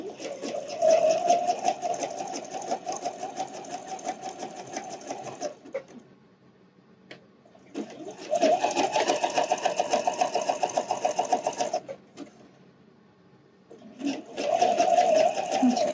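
A domestic sewing machine stitches elastic onto the band of a wireless bra, running slow and steady in three close bursts of whirring, rhythmic stitching separated by brief pauses.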